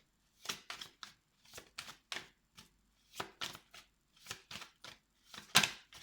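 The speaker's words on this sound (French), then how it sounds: "Je vais d'abord tirer les cartes avant de..." Tarot cards are shuffled and drawn, giving a series of crisp, close papery riffles and slaps in irregular bursts, with short quiet gaps between them.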